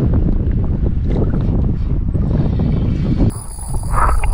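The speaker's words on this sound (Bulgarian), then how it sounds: "Дано да оттихне вятър." Wind buffeting a microphone on a fishing boat at sea, a loud continuous low rumble and roar that dips briefly near the end, no voices.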